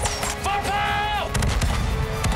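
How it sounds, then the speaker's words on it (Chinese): Ship cannons fire during a dramatic pirate battle scene in a Chinese-language film trailer, booming blasts rolling over orchestral music and loud effects, with speech briefly heard. "放炮！"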